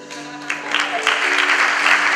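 Audience applause at a live stage show, a broad steady clatter of clapping that builds slightly over a couple of seconds, with some faint voices mixed in.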